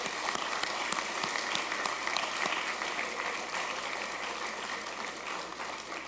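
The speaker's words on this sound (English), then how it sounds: "I think they deserve a round of applause" Sustained applause from an audience at a police promotion ceremony, honoring promoted officers and their families: a dense, steady roar of many hands clapping throughout, no speech over it.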